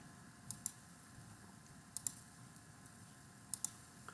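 Mouse clicks while working in IRRICAD irrigation design software, three pairs of quick, soft clicks spaced about a second and a half apart over faint background hiss, no speech.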